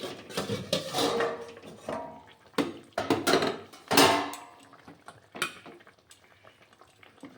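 A lid comes off a cooking pan while fish curry simmers, a handful of sharp metallic clanks and scrapes with a short rattle, followed by quieter kitchen clatter and faint bubbling, no talk.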